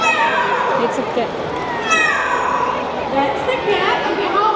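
Quincy, a parrot at a bird park show, imitates a cat with a few drawn-out meow-like calls rising over lively crowd chatter and children's voices close by.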